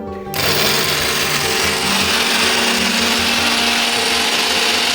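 An electric grinder runs at high speed, dry-grinding mustard seeds with salt, sugar and green chillies into a paste, a loud, steady whirring roar that starts abruptly and holds without pause.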